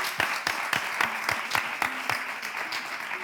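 An audience applauding a contestant, with rhythmic hand claps standing out sharply and close over a crowd clapping, lively and steady, plus a faint voice briefly underneath.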